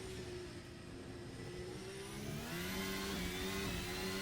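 A 2023 Formula 1 car in the racing game Assetto Corsa revs up under acceleration, a steady high-pitched engine whine climbing in pitch as it shifts, heard close and alone.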